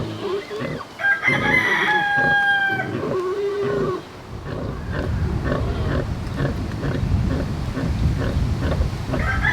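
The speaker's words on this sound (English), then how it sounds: "Miss Rosie Pig and her beautiful babies" Sow grunting among her piglets on a farm, a rough, low, continuous chorus of grunts filling most of the clip, with a rooster crowing loudly near the start.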